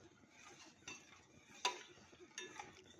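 A spoon stirs a boiling mixture of water, turmeric and ginger in a pot, soft scraping with a few metallic clinks over a quiet bubbling background.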